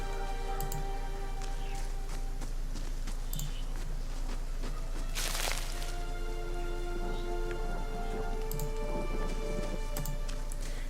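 Steady rain falls in a Pillars of Eternity game scene, a constant wash of patter with scattered drops and a brief louder burst midway, layered over low ambient hum and faint musical tones, with no talking.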